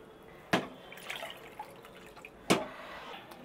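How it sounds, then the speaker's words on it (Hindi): Water is poured into a pot of thick haleem in two short splashes about two seconds apart, with quiet dripping and trickling in between. "इसमें मैं थोड़ा सा पानी और ऐड करूँगी क्योंकि अभी भी ये बहुत ज़्यादा गाढ़ा है"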